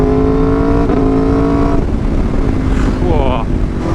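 An Aprilia RSV4 RF Limited Edition sportbike engine idles steadily with harmonic drone, then blips and revs up briefly, loud and close, with some talk-like noise mixed in.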